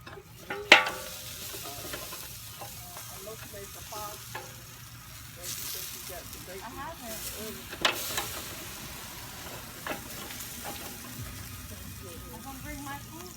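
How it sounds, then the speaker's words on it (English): BBQ ribs sizzle on an outdoor grill as they are flipped, a steady frying hiss broken by a few clacks of tongs, while someone talks over it. "so I'm finna flip these ribs over"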